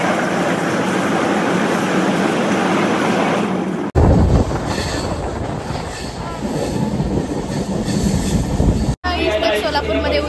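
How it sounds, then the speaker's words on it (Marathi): Train rolling into Solapur station, a loud steady rumble of wheels and carriages with a squealing high tone and rail clatter, continuous throughout with a brief cut near the end. "हे बघा ट्रेन."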